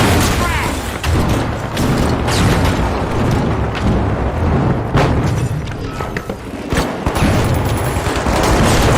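A frag grenade goes off in The Finals amid a loud, chaotic firefight, heavy booms and gunfire layered over constant rumble, with an announcer-style voice talking through it.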